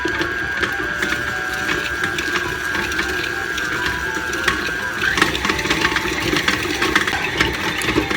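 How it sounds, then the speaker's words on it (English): An electric mixer creams butter with two cups of sugar for a marble cake, making a loud, continuous motor whine with a rattling, gear-like mechanical texture that holds steady throughout. "To mix my butter and my 2 cups of sugar till it's creamy."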